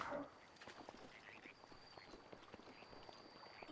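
Many frogs croak at once in Breath of the Wild, a soft, steady chorus of scattered croaks that sounds quiet and somewhat distant.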